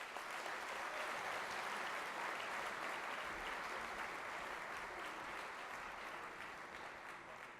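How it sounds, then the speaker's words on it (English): Sustained applause from a lecture audience greeting a panel, dense and steady clapping filling the hall for the whole stretch and tapering slightly at the end. "a very warm round of applause for our panelists"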